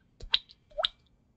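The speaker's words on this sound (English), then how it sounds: "okay, that's a water drop noise" Two or three short, close water drop plinks with hollow, bright tones, spaced apart against near silence.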